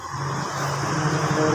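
A car engine turns over and settles into a steady low idle hum close by, growing slightly louder across a brief moment with no speech.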